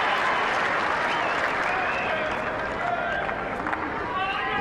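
Large tennis crowd at the 2004 Indian Wells semifinal between Federer and Agassi, roaring with sustained applause and cheering, a continuous dense wall of clapping and shouts while commentators talk over it.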